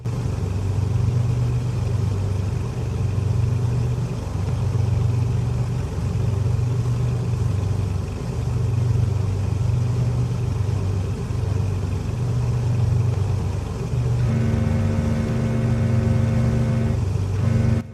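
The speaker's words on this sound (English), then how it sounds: "I just completed my engine run-ups." A vintage DC-3 aircraft engine running up in the Prepar3D flight simulator, a steady pulsing low rumble that holds for the whole stretch, with a higher tonal whine joining near the end.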